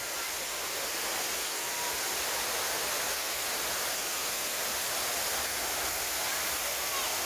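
Water from Friendship Fountain in Jacksonville splashing steadily, a dense even hiss filling the scene without pause, moderately loud and unchanging throughout.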